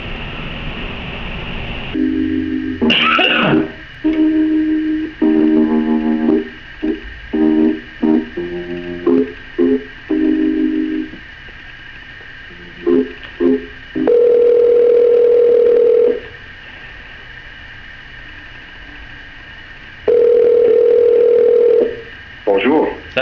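A telephone dial tone is followed by a quick series of touch-tone dialing beeps, then long ringback tones repeating before a call goes through, loud and close.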